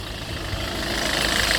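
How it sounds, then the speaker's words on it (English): A 2008 Citroën Nemo van's engine idles steadily after a repaired starting fault, a continuous close, even mid-pitched hum with no talk over it. "The engine is running"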